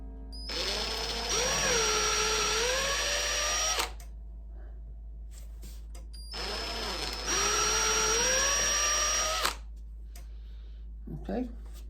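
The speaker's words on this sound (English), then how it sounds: "I'm just gonna drill these up a little bit" A power drill enlarges plastic cabinet hinge dowel holes in two separate bursts of several seconds each, its whine rising in pitch as it spins up, loud and close, with a short clatter at the end.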